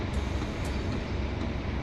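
Inside a Class 150/2 diesel train in snow nearing Truro station, a steady, dense rumble of running gear and engine fills the cab without pause, loud and even throughout.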